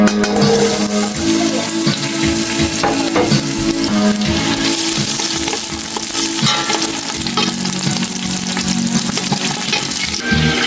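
Pancit noodles are stir-fried in a pan for a Christmas family meal, giving a loud, continuous sizzle with frequent scraping and stirring clatter throughout.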